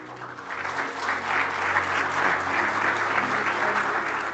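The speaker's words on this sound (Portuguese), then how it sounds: "um aplauso" Steady, continuous applause from a group at a safety meeting ceremony, clapping sustained throughout at a fairly loud level with crowd noise beneath.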